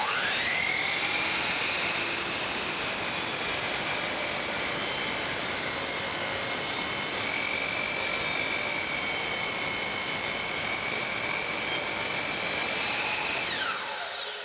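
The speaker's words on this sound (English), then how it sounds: "as we make this cut, it's going to make every single one of our boards to exactly the same measurement" Power saw cutting through a stack of wooden boards for a quilt rack, a loud, steady high-pitched whine holding for about thirteen seconds before spinning down at the end, with no talking.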